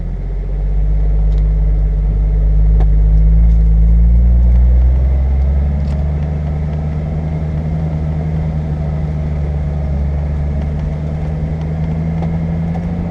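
Manual-transmission car climbing a steep grade, a steady low engine drone that swells as gas is applied and then settles into a constant rumble, heard from inside the cabin without talk.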